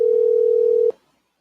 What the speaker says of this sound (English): It rings, but I don't know. Do I pick it up or I don't know why it's ringing.